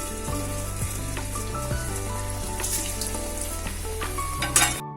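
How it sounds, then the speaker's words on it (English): Samosas fry in hot oil in a kadai, giving a steady sizzle and bubbling that runs continuously at moderate loudness beneath a background of tonal music, with no one speaking. "Now the oil is hot. To this I am going to add the samosas."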